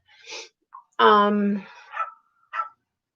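A dog gives a strained, whining bark-like vocalization with a clear harmonic tone, followed by a few short breathy yips and gasps, close to the microphone in a quiet room.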